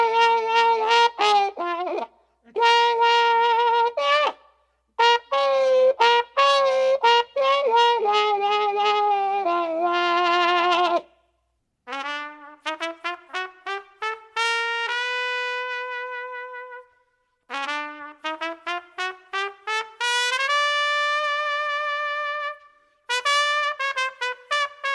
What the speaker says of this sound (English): He used the toilet plunger to make all these unusual sounds.